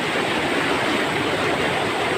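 A fast, heavy stream flows in a hillside setting, its water rushing in a loud, constant hiss with no voices over it.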